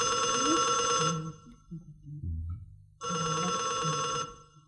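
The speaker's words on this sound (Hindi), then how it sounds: "इतनी देर से टेलीफोन की घंटी बज रही है" An old telephone bell rings in a guest house, with two loud, close bursts of about a second each separated by a pause, and low background sounds in the gap.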